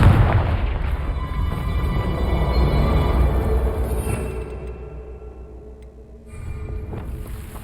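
A Confringo fire spell goes off in Hogwarts Legacy as a loud, deep, booming blast that rumbles and decays over several seconds, followed by a fresh swell of low rumble near the end, with no voices.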